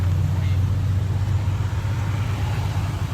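A fire truck drives past with a heavy, low engine rumble that stays loud and steady, with faint broadband road noise above it.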